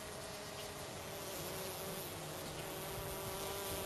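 Agitated honey bees balling a queen and held in a bare hand, giving a steady, dense, high-pitched buzzing that stays close and constant throughout.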